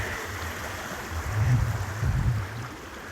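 Water flowing at Munising Falls in Pictured Rocks National Lakeshore, Michigan, a steady rushing wash with low rumbling swells that rise and fall, no talking.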